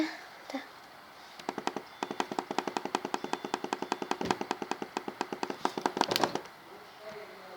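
Rapid gunfire in Team Fortress 2, a burst of evenly spaced sharp shots lasting several seconds, loud and close, with a faint voice before it.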